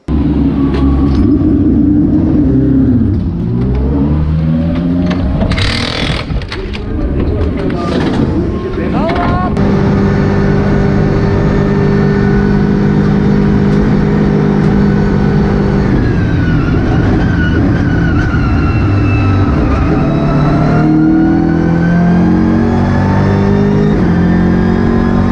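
Onboard race car engine at the Nurburgring 24 Hours during night qualifying, revving and shifting loudly through gears with strong harmonic sweeps, rising and falling pitch continuously, close and dominant throughout.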